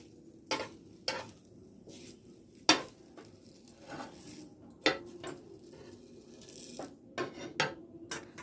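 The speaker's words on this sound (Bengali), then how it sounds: "এখন পাটিসাপটা পিঠা ভাজছি" Patishapta pitha rice crepes are fried at home, with scattered sharp clinks and scrapes of a utensil against the pan every second or so over a faint, low sizzle.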